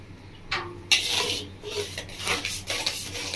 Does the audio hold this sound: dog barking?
no